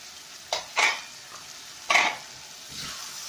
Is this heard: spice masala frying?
yes